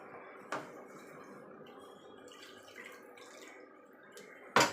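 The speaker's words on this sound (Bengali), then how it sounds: "চালটাকে ভালো করে ধুয়ে নেব দুবার তিনবার ভালো করে ধুয়ে নিয়ে তারপরে ভিজিয়ে রাখবো" Gobindobhog rice is rinsed in water, giving faint sloshing and dripping with a sharp splash near the start and a louder splash at the end.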